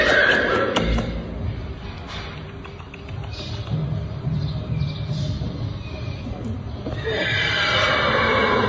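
Horse whinnying and neighing outdoors with occasional hoof thumps, birds chirping faintly in the background and a loud neigh rising toward the end.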